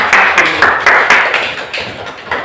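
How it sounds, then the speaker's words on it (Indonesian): A classroom group gives scattered applause for the first presenting group, with a handful of sharp claps near and fairly loud at first, then thinning out and fading. "Kita berikan aplaus kepada kelompok"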